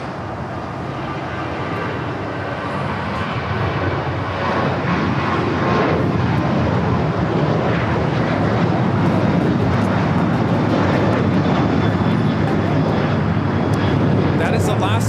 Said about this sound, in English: That is Alaska Airlines 1305 taking off to Seattle on the 737-900